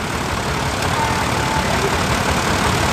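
A small vintage tractor engine idles at a tractor festival, a steady, loud, continuous rumble with no change in pace and no voices over it.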